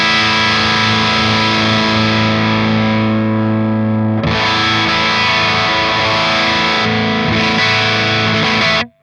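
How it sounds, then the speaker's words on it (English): Crunchy electric guitar played through a Plexi-style distortion pedal, sustained overdriven chords ringing loud and alone, with a fresh strum midway and a cutoff at the end. "That's a nice crunchy tone."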